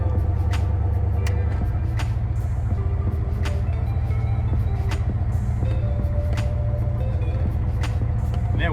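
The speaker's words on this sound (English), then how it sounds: "getting ready to go for a little ride in this really crazy van here" The 428 big block V8, rated at 700 horsepower, rumbles deep and continuously inside a custom van as it drives. A steady low drone fills the cabin, with faint clicks and rattles over it.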